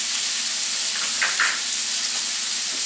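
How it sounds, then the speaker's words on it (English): Sirloin beef sears in a pan over high heat with a loud, continuous hissing sizzle and a couple of brief brighter pops midway, close and steady with no voices. "Now I put in my beef. I want to cook it on high heat because I want to get a real good sear."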